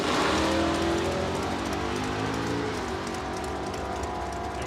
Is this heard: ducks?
no